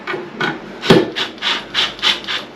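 Rhythmic turning strokes as a back-to-wall toilet's fixing screws are loosened to move the pan forward, a sharp knock near the start followed by repeated close, scraping rubs with no talk.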